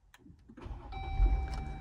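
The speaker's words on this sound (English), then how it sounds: "The Jeep did start" A Jeep starting with a dead key-fob battery, the fob held to the push-start button: a brief click and chime, then the engine cranks and catches into a steady, close idle with electronic whine.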